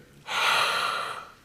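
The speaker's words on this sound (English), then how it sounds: "Quick breath in" A single sharp, close breath drawn in through the nose during a breathing exercise, a quick airy rush lasting about a second, with no talking.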